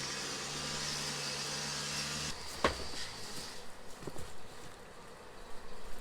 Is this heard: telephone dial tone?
no